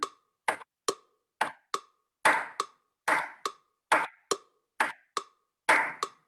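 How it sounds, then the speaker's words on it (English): A music class claps along with a metronome, sharp separate claps falling in a steady, evenly spaced rhythm, a dozen or so in a row with silence between, no talk. "Now you can all start clapping with me."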